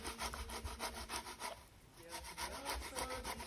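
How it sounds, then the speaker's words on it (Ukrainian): Peeled cooked beetroot grated on a kitchen grater for borscht dressing, a steady rhythmic rasping of repeated strokes, close and loud, with a brief pause midway before the strokes resume, no talk. "Зніміть з нього шкірку і натріть на терці."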